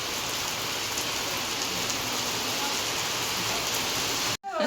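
Drizzling rain falls steadily, a dense close hiss of drops on surfaces that continues evenly before cutting off abruptly just before the end.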